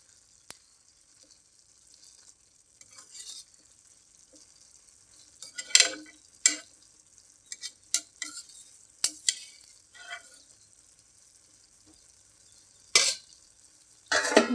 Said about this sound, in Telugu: ఒకసారి కలుపుకుంటే మొత్తం కలిసి చక్కగా ఉడుకుతుందండి